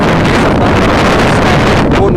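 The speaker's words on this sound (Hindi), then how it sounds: "ये जो हवा चल रही है 40 किलोमीटर की घंटे की रफ्तार से।" Strong wind from a dust storm in Islamabad, blowing at about 40 km/h, roars and buffets the microphone as a loud, continuous, rushing noise.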